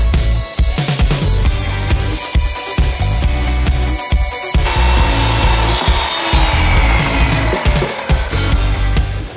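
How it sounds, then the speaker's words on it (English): A handsaw cuts a wooden shelf to length in continuous, loud rasping strokes, close up, the rhythm shifting midway as the cut progresses. "Okay, so I've cut this length."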